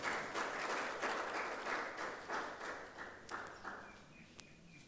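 An audience claps together at the 2018 IBMC Fest ceremony in Sharjah after a token of appreciation is presented. The applause is steady and dense, then thins and fades toward the end.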